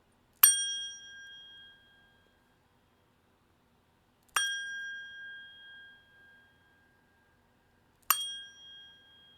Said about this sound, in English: the top is like a bell, like a singing bottle